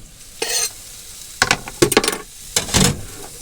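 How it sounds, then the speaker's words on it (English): Onions hitting a hot pan and frying inside a motorhome kitchen, heard as several short, loud bursts of sizzle and clattering stirring separated by quieter gaps. "and my onions straight in my pan"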